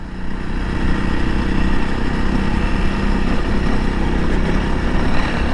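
Honda CRF300L dual-sport motorcycle engine running during early-spring backcountry riding in southwest Utah, a loud, steady, continuous drone with no pauses and no voices.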